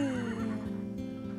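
A horse in a stable lets out a loud, close neigh, a falling whinny that trails off into snorting, alone without talk.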